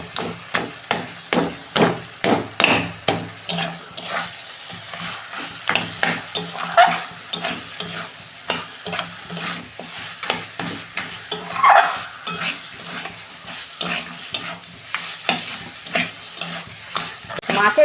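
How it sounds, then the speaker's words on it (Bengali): Fried fish heads in spiced masala are broken up with a metal spatula against the pan, making rhythmic knocking and scraping strokes over a constant sizzle. The strokes come in fast runs, then slower irregular hits, loud and close. "মাছের মাথা তো ভালো করে ভাজা হয়ে গেছে, খুন্তি দিয়ে ভাঙলেই ভেঙে যাচ্ছে"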